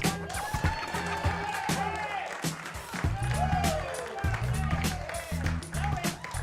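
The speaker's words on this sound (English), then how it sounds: "Ladies and gentlemen, a big round of applause for Jake West." A comedy club audience applauding and cheering for comedian Jake West as he comes on, sustained clapping with whoops, heard under a loud voice talking and shouting over the crowd.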